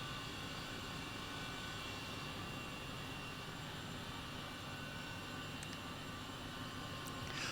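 Helicopter flying over London in Microsoft Flight Simulator 2020, a low, steady rotor and engine drone held at an even, quiet level throughout, with a couple of faint clicks near the end.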